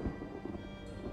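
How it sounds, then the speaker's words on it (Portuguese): Thunder rumbling from a lightning strike near a boat at sea on the Aegean, a low continuous roll mixed with steady rain and no voices. "Acho que a gente foi atingido por um raio."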